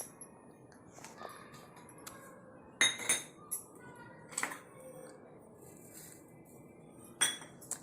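Aloo bhujia mixture made with gram flour is mixed in a bowl, with faint scraping and several sharp metallic clinks of a utensil against the bowl at irregular intervals, close and quiet.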